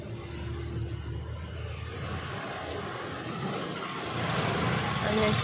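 A bus engine idles and rumbles at a low, steady pitch as the bus makes a U-turn at the Kankavli bus station, growing slightly louder near the end, with voices talking over it.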